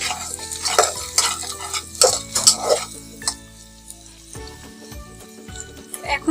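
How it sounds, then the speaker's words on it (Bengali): Four or five chopped garlic cloves sizzle in a pan for chicken pasta, with steady frying crackle and repeated scraping stirs of a utensil against the pan, close and fairly loud with no talking. "এই পর্যায়ে 4-5 কোয়া রসুন দিয়ে দেবো এখানে।"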